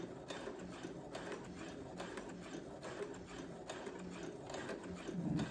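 A Brother sewing machine stitches fabric for a McCall pattern, giving a close, continuous rapid mechanical whir and clatter at an even pace, with no talking.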